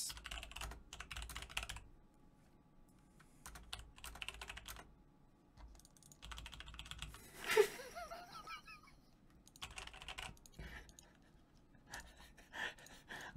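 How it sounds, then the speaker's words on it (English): Computer keyboard typing during a game stream, bursts of clacking keys spread across the stretch with short pauses between runs, fairly close and moderate in level, with brief voice sounds and a laugh mixed in. "I'm typing that word for word in right now."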